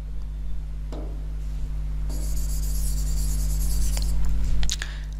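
Marker or chalk scratches across a board during a chemistry lesson, a few short strokes then a longer stretch of writing over constant electrical hum, close and fairly clear.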